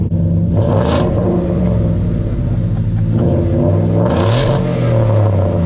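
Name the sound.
pickup truck engine revving, loud muffler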